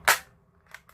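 A spring-less BB airsoft gun fires a single sharp, loud shot at the start, followed by two fainter clicks of the mechanism, with no voices.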